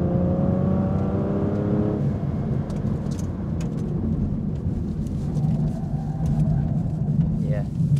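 An Aston Martin V12 Vantage Zagato drives through a corner, its engine a steady loud rumbling drone with a shift in pitch partway through, heard from on board with continuous road and wind noise.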